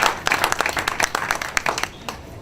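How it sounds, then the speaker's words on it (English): Audience applause at a 2014 Hispanic Heritage Month kickoff event honoring Grupo Variedad, Carlos Rivera and Marcia Zerate: a burst of scattered, irregular clapping from a modest crowd that gradually thins out. "Let's give a round of applause to Grupo Variedad, to Carlos Rivera,"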